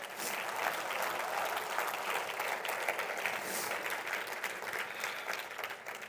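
A church audience applauds and cheers for Jesus during a sermon, a dense, even wash of clapping that holds steady at a constant level throughout.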